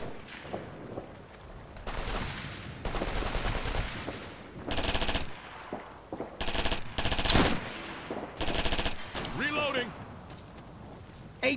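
Sustained automatic machine gun fire in the military shooter Operation Flashpoint: Red River, loud bursts of rapid rattling shots repeating through the whole stretch, interleaved with other gunfire and battle noise.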